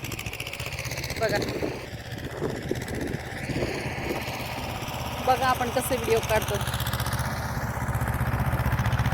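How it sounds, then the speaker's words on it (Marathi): Tractor engine running on a farm field, a steady low rumbling drone throughout with a person talking over it and some clattering in the middle. "चालू आहे ट्रॅक्टर"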